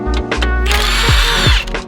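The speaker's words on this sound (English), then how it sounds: "I'm attaching a 13 millimeter socket because we need to remove our sway bar mounting points" A power tool fitted with a 13 mm socket removes the sway bar mounts on an Audi RS3, giving a loud, close whirring burst that surges with rising and falling pitch over a couple of seconds.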